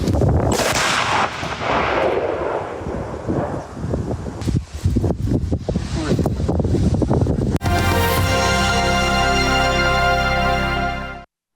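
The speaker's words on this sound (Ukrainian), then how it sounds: "Увага, вибух!" A single heavy blast from a controlled detonation bursts out with a rumbling roar that rolls on for several seconds, then gives way to a steady droning tone.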